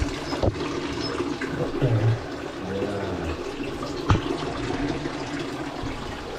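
Spring water at the Tirta Gangga water palace in Bali, rising from under a tree, flows in a steady, close rush, with faint voices and a couple of brief knocks over the continuous wash.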